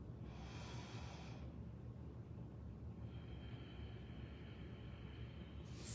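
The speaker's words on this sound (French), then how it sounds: "j'inspire en gonflant le ventre" A slow, deep belly breath drawn in and let out during a breathing demonstration, a soft, steady airy hiss that sounds close and quiet with no talking.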